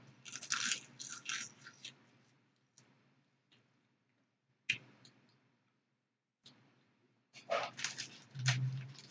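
Crisp, crunchy chewing of seaweed snacks comes in short bursts separated by quiet pauses, close up with no talking.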